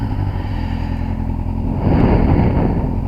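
Kawasaki ZX10R sport bike with about 96,000 miles of touring, its engine running nearby as a loud steady rumble that swells into a brief rev partway through.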